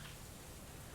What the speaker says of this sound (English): Oh god, we have rain.